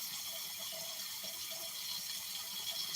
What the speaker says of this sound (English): Sorry if the sound of the running water is troublesome if you're wearing earbuds or whatever.